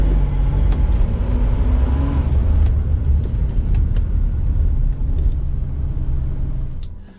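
A cheap Ferrari left sitting for four months with a fault on its left side drives off, giving a low, steady engine rumble close by that fades slightly near the end, with no talking.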